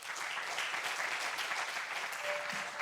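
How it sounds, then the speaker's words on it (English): Audience applause in a large university lecture hall welcoming two guests to a fireside chat, a continuous dense clapping from many hands, even and sustained, heard alone without speech. "please give a round of applause to Daniel and Nathalie"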